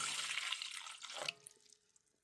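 Thick, 40-year-old pudding pours from its container into a mixing bowl with a wet, sloshing rush that stops abruptly, leaving faint drips and small clicks.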